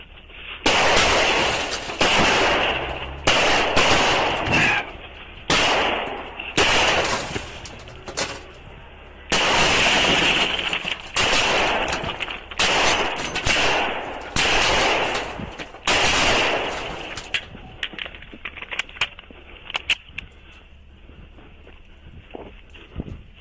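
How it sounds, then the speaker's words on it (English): Gunfire during a police chase, caught on a patrol car dashcam: loud, rapid, irregular shots in clustered bursts that thin out toward the end. "Shots fired! Shots fired!"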